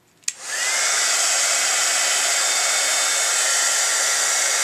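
A heat tool blows steadily to melt silver embossing powder on a Christmas card, starting with a click and then holding a loud, even whirring hiss close by for several seconds, with no talking.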